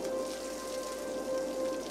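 Steady rain patters and hisses in the city-building game Cities Skylines, a soft even wash with a faint tonal hum running underneath and no talking.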